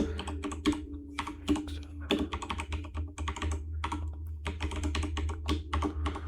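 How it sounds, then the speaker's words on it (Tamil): Steady bursts of typing on a computer keyboard as an XSS payload is entered, close and clear with irregular clusters of keystrokes and brief pauses, over a low constant hum and no talking. "நான் வந்து இப்போ எக்ஸஸ் டைப் பண்றேன்"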